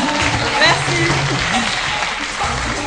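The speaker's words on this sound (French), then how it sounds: "on peut les applaudir." Studio audience at a French-language TV entertainment show claps after a dance segment, continuous applause under a host's voice and background music, fairly loud and close.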